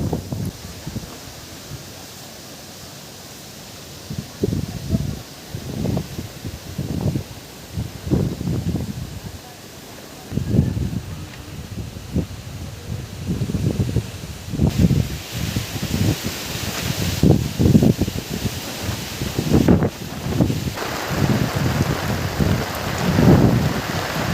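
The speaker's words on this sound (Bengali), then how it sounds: "এখন আবার মেঘ করেছে কালো হয়ে গেছে আর ঝড়ও উঠেছে হালকা ঝোড়ো হাওয়া" Gusty wind surges in repeated bursts, rustling leaves over a soft wash of falling rain, outdoors and fairly loud.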